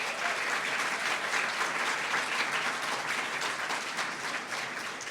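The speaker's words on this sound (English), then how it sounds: "so we can give all 4 of you a round of applause" Audience at an occupational therapy pinning ceremony gives a sustained round of applause for award winners, an even wash of many hands clapping at moderate distance throughout.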